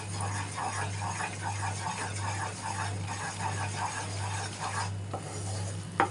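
Ghee is stirred into gram flour in a pan for Mysore pak, producing continuous close scraping and mixing strokes with a soft sizzle over a steady low hum, without talk.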